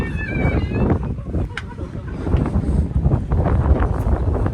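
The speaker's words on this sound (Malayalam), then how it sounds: "നല്ല കാറ്റുണ്ട്, അത് കാരണം ഞാൻ പറയുന്നത് ക്ലിയർ ആവുന്നതൊന്നും അറിയില്ല." Wind buffets the microphone with steady low rumbling gusts throughout along the Death Railway in Kanchanaburi, with faint voices and outdoor noise underneath.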